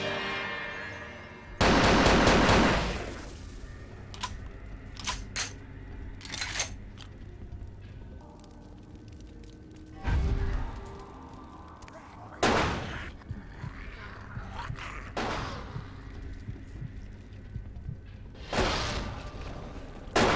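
Gunfire in the game Vampire: The Masquerade – Bloodlines comes in loud, separated bursts and single sharp shots, with quieter stretches of background noise between the volleys.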